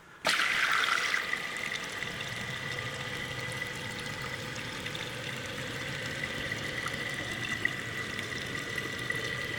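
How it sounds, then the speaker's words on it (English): Water runs steadily from a tap after being turned on, a continuous hissing flow that starts abruptly and stays loud and even throughout, with no talking. "Let's go ahead and turn the water on."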